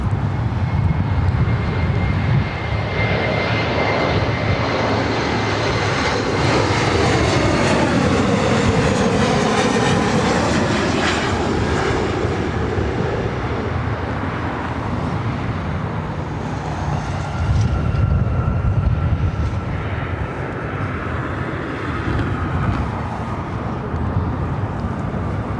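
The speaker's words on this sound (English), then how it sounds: "That was Delta Connection Sky West, flight 4099, coming in from Reno on that E175." A Delta Connection SkyWest Embraer E175 jet arriving at LAX from Reno roars loudly and close for the whole stretch. The engine noise is broad and steady, with a whine that sweeps down in pitch as the jet passes.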